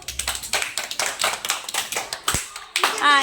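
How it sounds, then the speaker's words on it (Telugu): Children in a classroom clap together in a fast, steady run of sharp hand claps that carries on for about three seconds, loud and close, with a voice briefly at the end. "క్లాప్స్ కొట్టండి"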